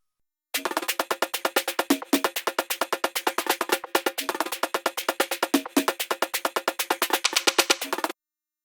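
A fast electronic percussion loop with crisp repeated hits, steady and rhythmic, playing alone for several bars before stopping abruptly.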